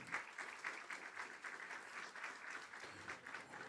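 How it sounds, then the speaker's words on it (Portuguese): Audience at a school violence-prevention forum applauding a speaker, steady clapping from many hands at a moderate distance, continuous for several seconds with no talk over it. "professora Luciene Tonheta, vamos aplaudir nossa palestrante,"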